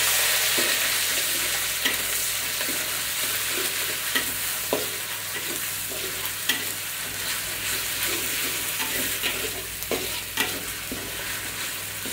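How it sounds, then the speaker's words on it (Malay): Pounded spice paste sautés in a pan for a sour vegetable dish, a constant close sizzle and crackle with occasional scraping stirs throughout, no talking. "Tumis sekejap sehingga garing."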